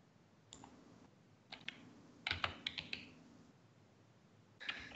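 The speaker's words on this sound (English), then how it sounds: "the stress of the keyboard and typing out the bet" Keys clatter on a computer keyboard as a poker bet is typed in during a cash game, a few sparse, close clicks followed by a quick burst of taps and one last keystroke, quiet and with no talking.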